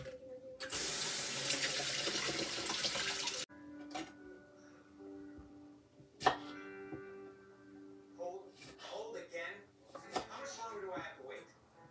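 A tomato rinsed under a running kitchen tap, a loud gush of water for a few seconds, then scattered clinks, drips and handling sounds in a sink, with a few spoken words over it.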